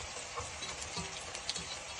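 Onions frying in a pan for a jute-leaf and red lentil curry, a steady soft sizzle with occasional stirring scrapes and light ticks, close and fairly quiet.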